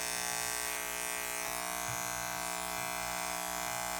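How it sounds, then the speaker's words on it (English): An electric hair clipper buzzes steadily and continuously at close range while cutting hair very short, a constant motor drone with no speech over it. "when we start cut the hair with a clipper"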